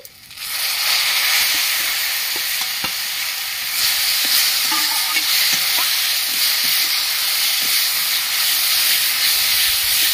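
Ground drumstick pulp hits a pan of reddened fried onions in oil, bursting into a loud, steady hiss and sizzle that holds for several seconds with faint stirring taps underneath.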